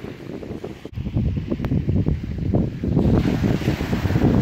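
Steady wind gusting by the sea at a fishing spot after high tide, a continuous low rushing roar buffeting the microphone, swelling slightly louder toward the end with no voices.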